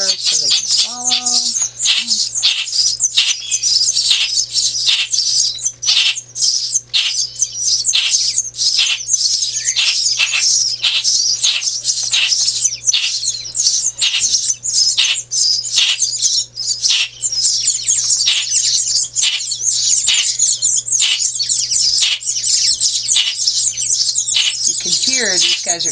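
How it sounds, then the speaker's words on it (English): Baby chipping sparrows in a nest give a dense, continuous high-pitched chirping that runs the whole time, close and loud. "Hear these guys are chipping sparrows. You can hear the difference in the sound that they're making."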